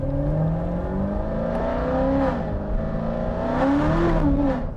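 A Corvette Z06 with stock exhaust revs and drones close by, its pitch rising and falling in smooth sweeps as it accelerates and eases off.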